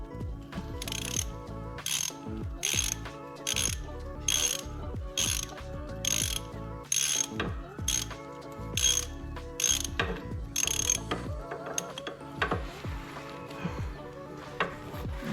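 Ratchet tightening the oil drain plug on a 1983 Honda 200E Big Red ATV: rapid metallic clicking bursts repeating in a steady back-and-forth rhythm, close and crisp, with no talking.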